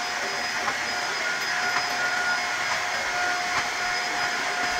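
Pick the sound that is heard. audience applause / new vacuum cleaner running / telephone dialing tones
new vacuum cleaner running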